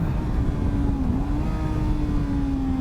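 A motorcycle engine pulls steadily in a higher gear on Bridgestone Battlax S23 tires, a smooth sustained drone with a slowly rising and dipping tone, close and constant over heavy wind rush.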